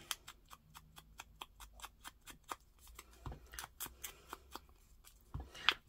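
Scissors snip Christmas packaging leftovers in a steady run of quick, crisp cuts while scrap ephemera is made in a papercraft setting. The cuts are close but quiet, and a few louder rustles and handling sounds come near the end.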